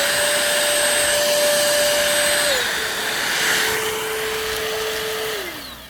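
A Rowenta All in One 460 vacuum cleaner runs loud and steady with its booster, the motor whine stepping down in pitch partway through and dropping again near the end.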